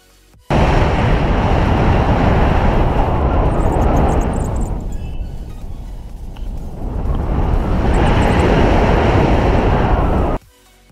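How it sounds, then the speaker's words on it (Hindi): Strong wind rushes past while paragliding at high altitude over Himachal Pradesh, a loud, steady roar lasting about ten seconds that dips briefly midway before swelling again, then cuts off abruptly. "इतनी ज़्यादा हाइट की आवाज़ की, हवा कितनी तेज़ चलता है, कितनी तेज़ आवाज़ है"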